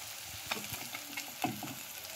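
Chicken sautéing with turmeric, red chilli and coriander powder in a hot pan, a soft continuous sizzle broken by a few brisk stirring scrapes, fairly quiet and close, with no voices.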